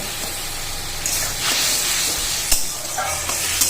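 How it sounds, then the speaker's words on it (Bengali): Spices, chili powder and chopped tomato sizzle and hiss steadily in a hot pan, with occasional bursts of louder spitting as the masala is sautéed. "এটা ভালো করে কষিয়ে নেবো"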